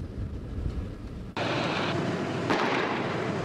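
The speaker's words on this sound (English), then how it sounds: "That's the sound of flashbangs used at daybreak this morning." Police flashbangs detonate at daybreak during a hostage standoff: a sharp, loud blast cuts in suddenly partway through, followed by a second burst a second later, over a steady outdoor rumble.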